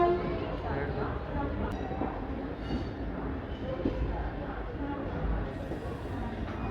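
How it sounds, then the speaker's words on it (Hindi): The 14507 Delhi Fazilka Intercity Express pulls out of platform 15 at Delhi Junction with a continuous heavy rumble and clatter of wheels close by, while someone talks over the noise. "डॉट ऑन टाइम निकल चुकी है अपनी ट्रेन दिल्ली जंक्शन के प्लेटफॉर्म नंबर 15 से"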